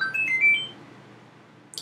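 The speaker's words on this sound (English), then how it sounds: "Got a text message on my new Mario Brothers theme from Cydia." A text message alert on a phone, a Mario Brothers theme ringtone installed from Cydia, plays as a short, quiet burst of melodic beeping notes, followed by a brief bright chirp near the end.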